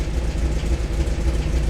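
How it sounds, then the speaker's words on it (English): A small engine idles steadily right after the automatic choke is kicked down, running on oil mixed with gasoline; a low, even, rhythmic chug continues close by without talk. "Kick that auto choke down. Oh yeah, smooth like butter. We are idling at an RPM."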